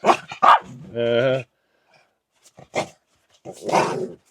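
Dogs, one an old dog of about 13 alongside a puppy, bark inside an off-grid camper: a few sharp, close barks and a drawn-out growling yelp, separated by quiet gaps with a voice briefly heard.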